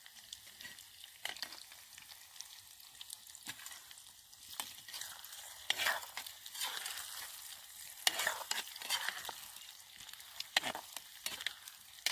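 Clay-baked eggs fry and sizzle in a pan, a steady crackle of hot oil broken by sharp bursts of stirring and scraping, close and moderately quiet, with no talking.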